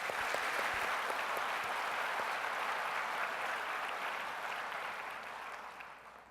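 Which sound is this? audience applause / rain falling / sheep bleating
audience applause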